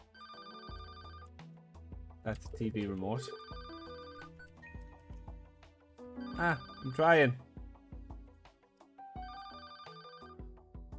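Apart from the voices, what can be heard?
telephone ringing in video game Paper Lily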